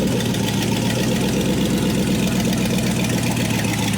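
A Chevy V8 swapped into a Volvo 240 or 940 runs steadily and loudly nearby, a dense throbbing rumble with an even lumpy pulse that fills the short stretch without any talking.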